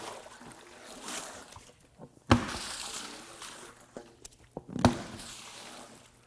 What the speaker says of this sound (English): I will take that same tire, roll it off, and empty the water out for you.